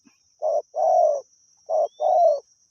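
A spotted dove in the Thai countryside coos two paired phrases, each a short note followed by a longer, slightly falling coo. Close and clear against a quiet background, with a thin steady whine high above.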